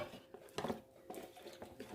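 Onion syrup seasoning being mixed in a bowl for pickled chinese toon shoots, with a few soft scrapes and clinks of a utensil against the bowl, close and quiet, no voices.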